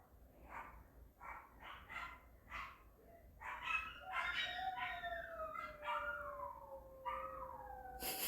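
A dog howls together with a man imitating the howl, starting with short yelps and rising into long, wavering, sliding cries that run on for several seconds, faint and somewhat distant with background hiss.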